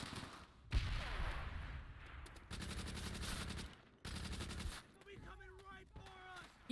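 Rapid automatic gunfire rattles out in dense bursts in a World at War multiplayer shooter, several sustained strings of shots separated by brief gaps, with in-game sound effects and a voice near the end.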